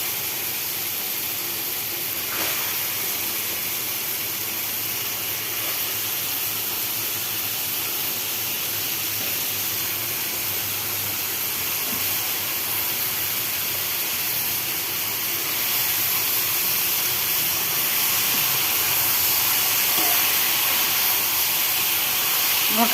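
Chopped bottle gourd hitting a hot cooking pan gives a steady, loud hiss of sizzling and steam that holds evenly throughout and swells slightly near the end.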